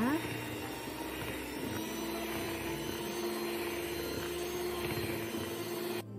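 An electric mixer beats butter, margarine, salt and vanilla for cheese button cookie dough, a loud, steady whirring drone that runs unbroken for several seconds before cutting off abruptly.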